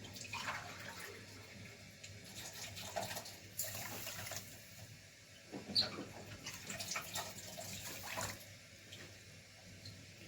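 Water poured into a pot for making sugar syrup, a steady splashing pour with brief louder bursts of fuller flow, close by and with no talking.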